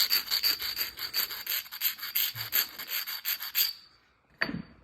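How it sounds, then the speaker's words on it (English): A soldering iron tip rubbed back and forth on a carborundum stone, giving a rapid, steady rasping scrape close up that stops abruptly, followed by one short scuff. "Hit it with the carborundum."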